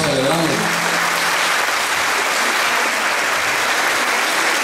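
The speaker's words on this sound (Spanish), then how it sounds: "Quiero que se regalen un aplauso a ustedes por este día que estamos celebrando" A crowd of mothers at a Mother's Day celebration applauds loudly and continuously, dense clapping filling the space; a brief voice or tone fades out at the very start.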